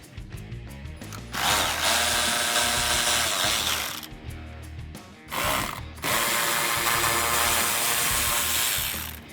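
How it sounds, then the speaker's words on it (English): A 10mm socket on a ratchet backs out the nuts holding a fender flare on a 2009-2014 Ford F150, loud close mechanical whirring and clicking in two long bursts separated by a brief pause, with no talk. "use my 10mm socket to remove these 2 10mm nuts on the back of the fender flare"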